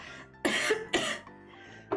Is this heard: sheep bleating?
no